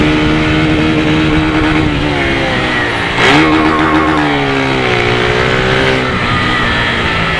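A motorcycle with a tuned Polimet exhaust idles loud and close, rumbling steadily, then revs up in a short burst around the middle and settles back to a rough idle.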